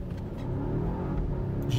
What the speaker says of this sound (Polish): Ale fajnie skrzynia zmienia biegi